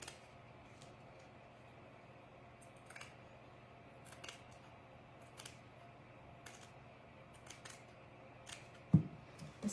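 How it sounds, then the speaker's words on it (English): Scissors snip around denim and lace in short, crisp cuts, scattered irregularly and fairly quiet in a still room, with a louder clack near the end and no talk. "I'm just going to cut around it to give it some more, like a lace look around it."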